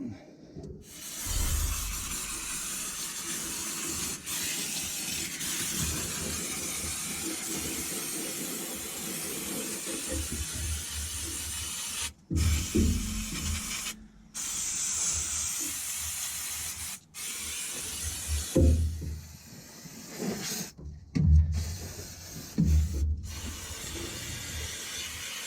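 A Volvo EC140 excavator's fuel system is primed, producing a steady spraying hiss that runs in long stretches broken by abrupt stops and a few clunks, fairly close.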